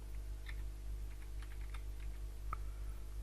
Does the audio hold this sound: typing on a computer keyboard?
yes